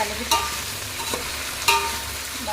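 Mixed vegetable rice is stirred in a frying pan, with two distinct scraping strokes of the spoon against the pan over a soft, steady background sizzle.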